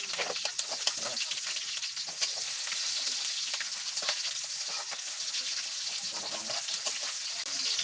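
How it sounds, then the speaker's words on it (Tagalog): Chopped onions sauté in a pan, giving a continuous mid-level sizzle with faint scraping and stirring ticks, no voices. "Yung maguling brown, nakasayin na natin itong sibuyas"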